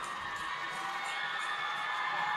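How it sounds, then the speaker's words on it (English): A crowd at a women's hockey all-star game cheers and applauds as a goaltender exits, a steady, dense wash of noise with scattered whoops and shouts throughout. "another big cheer there for Cadrain as she's going to exit to raucous applause"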